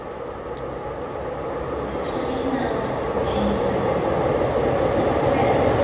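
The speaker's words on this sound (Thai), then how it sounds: "ขบวนนี้เป็นรถดีเซลรางชั้น3นะฮะ" A third-class diesel railcar passenger train on Thailand's northern line rumbles steadily past at close range, a loud continuous roar that builds slightly, with faint wheel squeal and no talk.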